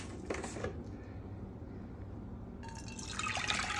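Water, four and a half cups, is poured into a crockpot of seasoned rice, a faint splashing trickle at the start and again toward the end, quiet and close.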